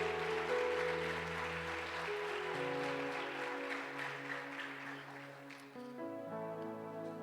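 A congregation applauds in a church during a family celebration service, steady soft clapping heard over sustained organ or keyboard chords that change partway, fairly faint and without speech.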